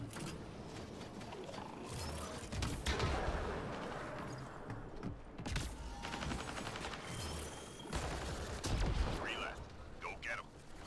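Indra rifle gunfire in the sci-fi shooter Mass Effect Andromeda multiplayer, with a turian soldier firing rapid bursts amid explosions and game effects, loud and dense, pausing briefly between volleys.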